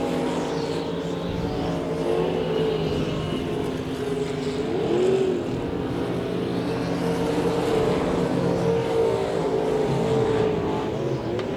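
Race cars thunder around a dirt speedway on the final lap of a heat race at a winter nationals night, a continuous roar of engines with rising and falling pitch as cars pass, heard from a distance with no talk.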